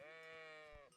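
A single sheep bleats in the video game Kingdom Come: Deliverance, one clear wavering call about a second long, fairly quiet and alone.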